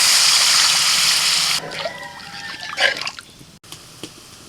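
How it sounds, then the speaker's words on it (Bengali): Water is poured from a vessel into frying masala for a rohu fish curry, a bright splashing hiss at first, then fading into quieter drips, bubbling and light clinks of the pan. "এবার দিয়ে দিচ్ছি জল।"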